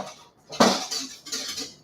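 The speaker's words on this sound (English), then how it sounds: "I'm going to give it just a little bit of a stir" A utensil stirs quinoa in a pot on the stove, giving a few clinking scrapes against the pot's sides in short separate bursts, close and fairly quiet.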